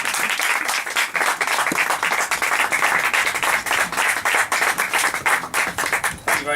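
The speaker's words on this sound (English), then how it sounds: "Ladies and gentlemen, please have a round of applause for Mr." An audience at an evening event applauds a candidate for the European Parliament with sustained, dense clapping throughout, loud and close, with no break.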